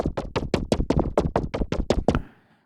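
Synthesized thumpy creature call modeled on a shoebill stork, a rapid run of about eleven hollow knocking thuds at an even clip, close and dry, ending in a short airy tail.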